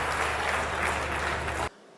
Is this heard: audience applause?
yes